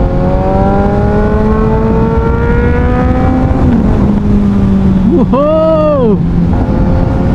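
A Kawasaki Ninja 1000 motorcycle in sports mode pulls hard through the gears, engine note climbing in steady rising sweeps with a sharp rev spike near the end, loud and close under wind roar, with a brief excited exclamation from the rider.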